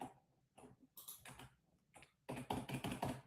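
Computer keyboard typing in bursts of quick, close clicks and taps, sparse at first and then a dense, louder run of keystrokes near the end.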